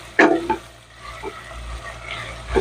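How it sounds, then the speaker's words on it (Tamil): Curry leaves and onions drop into a hot pan for soya kurma, sputtering with a sharp initial crackle and a low, uneven sizzle plus a few stirring knocks, close and without speech. "நான் கருவேப்பிலை, வெங்காயத்தை போட்டுக்கிறேன்"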